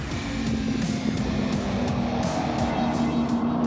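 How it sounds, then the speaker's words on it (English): A V8 turbocharged race car speeds down a straight, its engine giving a loud sustained roar with a steady droning tone and a few surges, heard alone without talk. "That is a proper race car."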